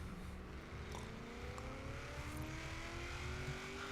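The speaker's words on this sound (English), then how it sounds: "Just hear that exhaust note, it sounds so good." A 1950s Corvette engine in a racing video game revs up steadily, its exhaust note climbing in pitch as it accelerates, loud and continuous.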